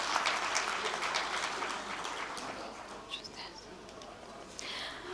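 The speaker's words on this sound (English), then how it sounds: "Please give him a warm round of applause" Conference audience at an international resilient-infrastructure gathering applauds the CEO of Nepal's National Reconstruction Authority; a dense, steady wash of clapping from many hands fills the room at moderate volume, holding evenly throughout.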